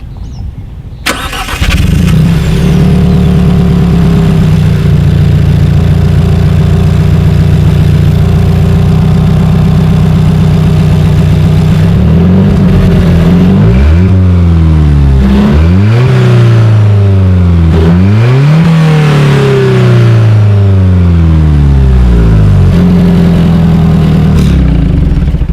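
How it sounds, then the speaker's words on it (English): Alfa Romeo 4C Spider mid-engine car with chrome-tipped exhaust outlets starts up and idles steadily, then is revved several times in rising and falling sweeps, loud and close, with no talking. "As always, here is that exhaust clip."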